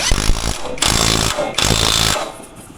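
Osuka cordless impact wrench set to its third power level, used on a motorcycle wheel during a tire change: two loud, close, rattling bursts of hammering, with short pauses between them and no talking.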